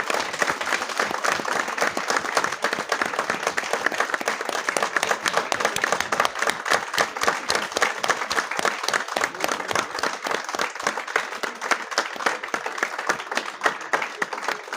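Prolonged, enthusiastic clapping from a crowd of lawyers at a Lahore bar association gathering, with sharp individual claps forming a dense, rhythmic patter that stays steady for about fifteen seconds.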